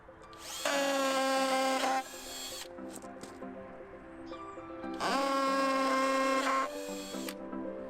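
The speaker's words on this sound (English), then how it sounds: "now I'm going to try and screw that leg onto that bit of wood" A power drill driving screws into pallet wood whirs in two sustained bursts, each about a second or more, with quieter handling noise and shuffling between them.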